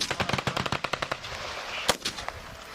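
Rapid bursts of machine gun fire from a tripod-mounted weapon during a military training exercise at Schofield Barracks, Hawaii: a fast rattling string of close, loud shots, then a single sharper report and fading echoes.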